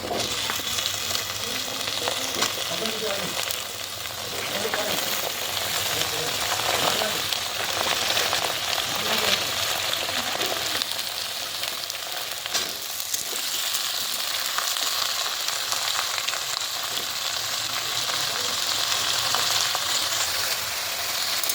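Potatoes and tomatoes fry with onion and green chilli in hot oil, giving a loud, continuous sizzle with occasional stirring scrapes throughout.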